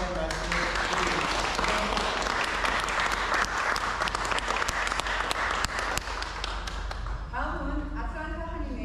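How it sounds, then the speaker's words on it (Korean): Audience applause at a Korean-American community sports festival torch relay ceremony for Atlanta, Georgia, a dense steady clapping from a sizable crowd that carries on for several seconds before thinning out as a voice begins speaking. "다시 한번 박수 한번 내주셨습니다."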